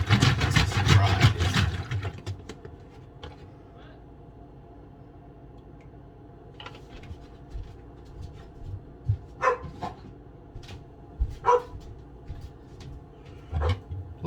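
Dogs barking outside in scattered short bursts, heard at a distance, with a loud clatter at the start and a low engine-like hum underneath.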